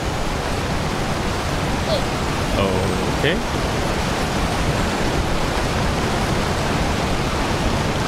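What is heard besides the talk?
waterfall white noise in a video game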